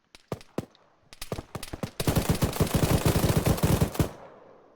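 Arma 3 video game gunfire: a few scattered single shots, then a dense sustained burst of automatic fire for about two seconds, loud and close, with no talking.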